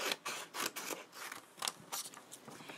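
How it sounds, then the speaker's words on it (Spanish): Scissors snip through a sheet of paper to cut out a stem shape, a series of quiet, close crisp cuts with soft rustling between the strokes. "Vamos a agarrar nuestra hoja y vamos a recortar un tallo"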